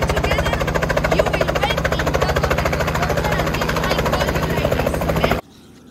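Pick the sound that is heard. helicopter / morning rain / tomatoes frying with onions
helicopter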